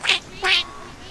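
Ducklings quacking in a children's story: two short, bright calls, the second slightly longer, close and clear with a quiet pause between.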